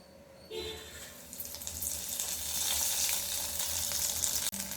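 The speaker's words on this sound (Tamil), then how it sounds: "இப்படி கோட் பண்ணி எண்ணெயில் போட்டு பொரிச்சு எடுக்கணும்." Breaded moringa cutlets fry in hot oil, giving a steady, fairly loud sizzle that swells after a brief quiet start and runs continuously with soft bubbling; no one speaks.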